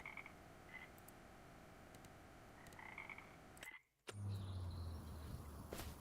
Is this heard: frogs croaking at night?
yes